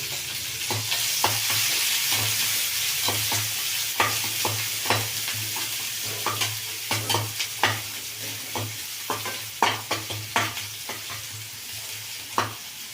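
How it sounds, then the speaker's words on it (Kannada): Onion, carrot, capsicum and chillies frying in oil, a steady close sizzle with a low hum beneath and repeated spoon scrapes and taps that grow more frequent in the second half. "ಇದೆಲ್ಲ ಎಣ್ಣೆನಲ್ಲಿ ಚೆನ್ನಾಗಿ ಫ್ರೈ ಆಗಬೇಕು"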